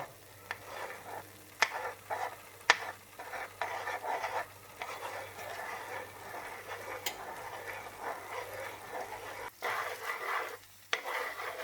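Egg cooking in a pan for Cantonese fried rice, stirred slowly with a spatula: soft scraping and shuffling strokes over a low, gentle sizzle, close and fairly quiet, with a steady low hum behind.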